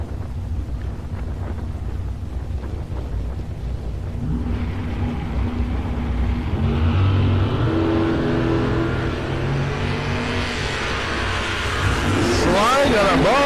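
Big block Ford Mustang with a 460 cubic inch engine drag racing against a 1974 Nova at a raceway, engines roaring loud and building into rising revs near the end, with wind buffeting and crowd or announcer chatter underneath.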